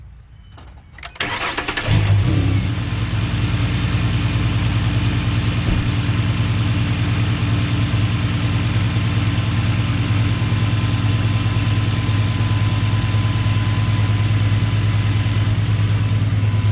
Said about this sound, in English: the goal is to get enough gap that it gives you that idle